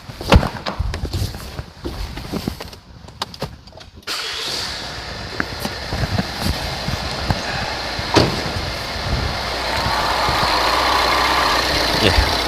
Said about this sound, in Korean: 이렇게 연결만 하고 바로 시동을 걸겠습니다.